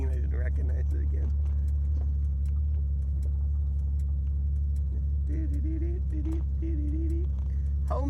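A 1964 car's engine runs steadily with a low, constant rumble close by, while people talk over it and small rattles come and go.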